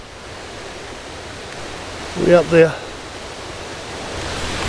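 A forest waterfall on the Great Glen Way rushes as a broad, steady roar that fills the scene, with a voice briefly speaking over it partway through.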